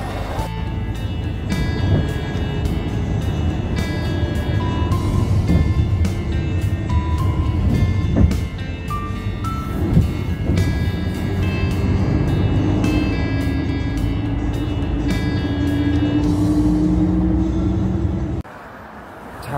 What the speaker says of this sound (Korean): 버스를 타겠습니다.